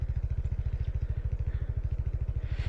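A motorcycle on a rough, potholed road near Cagsawa Ruins, its engine thumping in a fast, even pulse close by, with some rattle and clatter and no talk.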